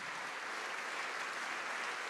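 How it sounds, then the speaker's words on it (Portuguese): Continuous applause from a church congregation during a service, a dense, even roar of many hands that is fairly faint and distant, with no voices above it. "Vamos aplaudir por cada vida que está chegando."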